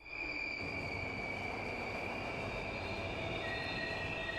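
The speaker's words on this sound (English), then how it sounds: "the train comes screaming into the station" A sustained, high-pitched metallic screech of train brakes in the video game Steins;Gate Elite as a train arrives at a station, loud and continuous with steady shrill tones over a rumbling roar, no voices.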